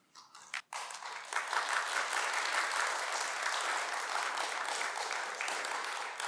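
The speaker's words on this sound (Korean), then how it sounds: "나오실 때 큰 박수로 환영하겠습니다" An audience in a church hall gives a warm round of applause to welcome a journalist lecturer. After a couple of brief taps and a short pause, the clapping swells into a full, steady roar that holds for about five seconds.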